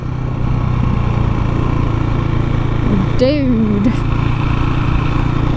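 A new KTM motorcycle engine runs steadily with a low, even drone, while someone talks briefly over it and a short rising whine cuts through near the middle.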